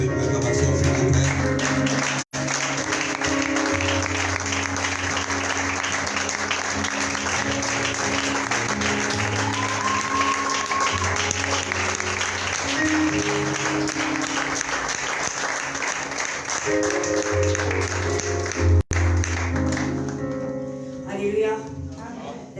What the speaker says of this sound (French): est-ce qu'on peut accompagner l'évêque avec une acclamation, s'il vous plaît?